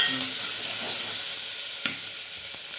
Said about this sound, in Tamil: வெங்காயம் தக்காளி பூண்டை போட்டு வதக்கிக்கலாம்